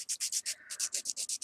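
A buffer is rubbed briskly back and forth across an artificial nail surface, a close, rhythmic series of about ten scratchy strokes with one short pause midway.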